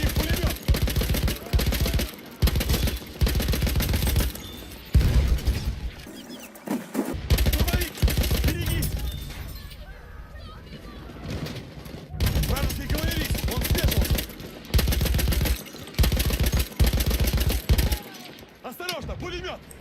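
Repeated bursts of SMG 08/18 submachine gun fire in the Battlefield 1 video game, loud and close, with short pauses between strings of rapid shots.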